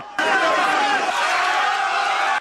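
Large crowd of about two thousand people storming the regional SBU office in Donetsk, a dense, loud, continuous roar of shouting voices and whistles that stays steady throughout.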